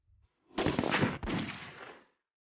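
Two Type 81 assault rifle shots crack close together, loud and reverberant with a long rolling echo tail fading over about a second, heard alone at a shooting range.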